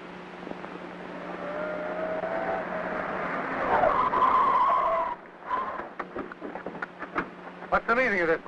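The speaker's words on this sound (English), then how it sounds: "Start that truck and don't stop till you got that horse into my Victorville ranch." A 1930s truck drives with its tires skidding and squealing in a sustained screech, followed by scattered clattering bursts, while voices speak near the end.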